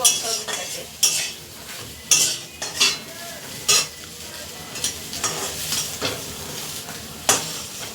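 Soybean chunks sizzle in hot oil while a utensil stirs and scrapes the pan in repeated bursts, close and fairly loud, no voices.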